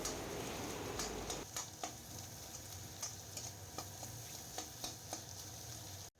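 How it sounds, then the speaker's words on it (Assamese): Potatoes with salt and turmeric fry in a pan of oil, a continuous close sizzle broken by a series of sharp spatula scrapes and taps. "এইখিনি দি মই অকণমান এতিয়া 5 মিনিটমানৰ কাৰণে আলুখিনি ভালদৰে ভাজি ল'ম"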